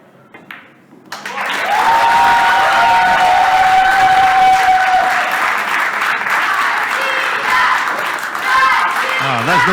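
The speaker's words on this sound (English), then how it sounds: "That's the first time ever we hear this cheer in the background" Spectators at a DreamChallenge pool match roar with cheering and applause after Konstantin Stepanov wins a rack, a loud crowd swell that rises after a brief quiet start and holds, with some chanting voices and commentary underneath.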